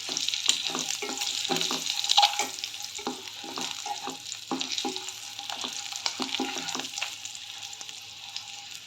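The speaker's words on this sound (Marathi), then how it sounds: "थोडंसं परतून काढूया आपण" Eggs sizzle in a pan with coriander powder and chicken masala under a constant hiss, while a spatula scrapes and taps in quick, irregular strokes throughout.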